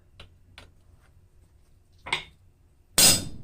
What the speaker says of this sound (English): I'm just going to use my rivet set tool, rivet block and rivet set, and we are going to upset this